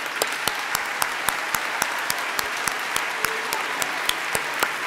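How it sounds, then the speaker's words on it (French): Church congregation at a Christmas service applauding scout leaders, a sustained wash of clapping with a few sharp, distinct claps standing out near the listener. "vous fassiez un grand tonnerre d'applaudissements à nos chefs scouts"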